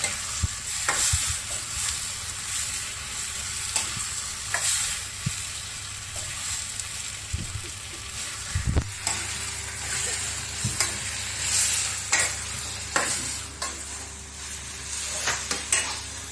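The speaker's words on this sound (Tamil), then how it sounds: "ப்ராணம் சேர்த்து அது கிண்டு கிண்டி விட்டுருங்க" Prawns frying in a pan give off a continuous sizzle, broken by repeated scraping and clinking as a utensil stirs them close up.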